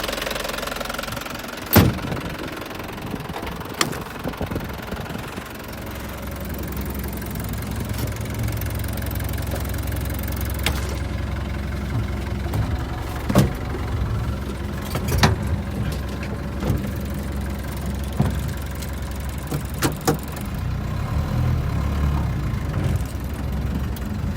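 Diesel engine of a 1992 Mitsubishi Willys jeep running and driving, a steady close knocking rumble with occasional sharp clanks and bumps throughout.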